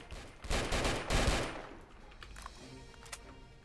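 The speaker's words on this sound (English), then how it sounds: "Well, I think I shot him." Gunfire in the Roblox military game: a cluster of loud, close shots with a sustained burst around the middle, then quieter scattered pops and game noise trailing off.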